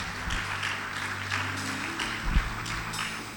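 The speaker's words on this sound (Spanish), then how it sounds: "dele bien una ofrenda de palmas al Señor" A church congregation gives a steady round of applause to the Lord, with dense clapping over a low sustained instrumental hum.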